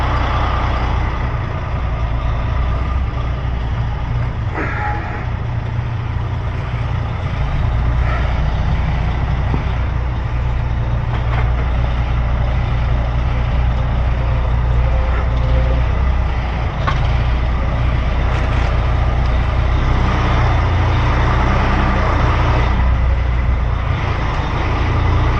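A truck reversing with an empty trailer: a steady, loud low diesel drone runs throughout, with a few faint clanks and knocks over the engine.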